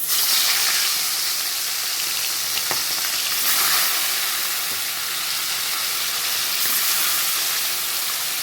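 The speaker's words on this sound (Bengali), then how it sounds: "তেল গরম হয়ে গেছে আমি এক এক করে এবার মাছগুলো ছেড়ে দেবো তেলে" Fish, likely koi, slipped into hot oil one after another sets off a loud, steady, close sizzle that holds for the whole stretch, with no talking.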